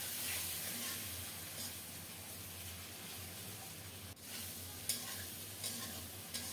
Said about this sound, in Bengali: চিংড়ি মাছগুলো পরিষ্কার করে কেটে ধুয়ে লবণ হলুদ মাখিয়ে গরম তেলে ছেড়ে দিলাম।